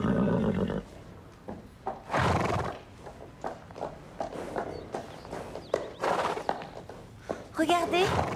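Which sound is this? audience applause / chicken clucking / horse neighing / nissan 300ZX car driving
horse neighing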